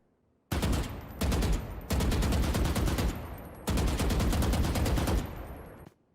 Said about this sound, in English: This is a very good weapon to shoot in bursts.